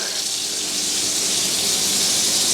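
Water runs from a kitchen tap in a strong, steady hiss, loud and close, with no pauses or talking.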